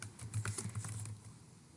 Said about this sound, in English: Then I can go ahead and start typing in that cell.